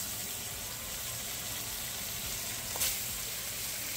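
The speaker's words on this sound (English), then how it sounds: "I'm gonna go ahead and add the steak" A seasoned chuck eye steak searing in a hot pan, giving a steady, even hiss of sizzling fat that holds at one level for several seconds, close by, with a single brief clink near the end and no voices.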